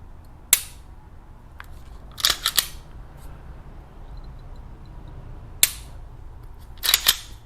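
Sharp clicks from a ZEV OZ9C polymer pistol trigger being pulled to the wall: a lone click, then doubled clicks, and another pair and cluster later, crisp and close over a quiet room hum.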